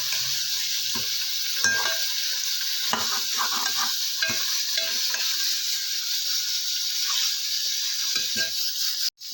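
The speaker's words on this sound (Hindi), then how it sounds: "अदरक और लहसुन का पेस्ट डाल के हमने इसको अच्छी तरह से भून लिया" Quail frying in a pan with ginger garlic paste, a steady sizzle running throughout while a spoon stirs and scrapes against the pot in irregular clinks and knocks.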